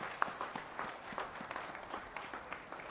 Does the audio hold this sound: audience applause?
yes